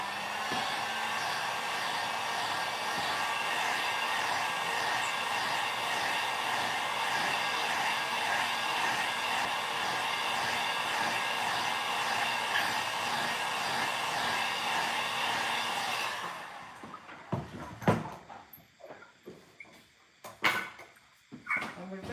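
A hair dryer blows steadily on decoupage work on a small wooden hall stand for about sixteen seconds, then cuts off, followed by light handling clatter and knocks.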